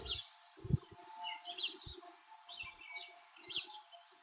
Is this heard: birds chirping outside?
yes